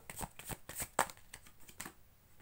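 Tarot cards are shuffled in quick, close riffling bursts for a couple of seconds, the flutter easing off near the end.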